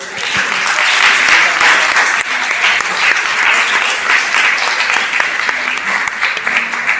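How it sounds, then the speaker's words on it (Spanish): Congregation applause at a Hebrew Roots religious service, loud sustained clapping from a large crowd that holds steady for several seconds, with faint voices mixed under it. "Den un aplauso al Eterno."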